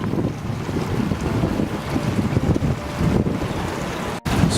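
A small tourist boat runs across open water off Bocas del Toro, Panama, with a steady roaring rush of wind buffeting the microphone over the engine and splashing water, continuous and fairly loud.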